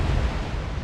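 Artillery shells bursting near a ship in a naval video game, a brief, loud, deep rumbling blast filling the moment alone.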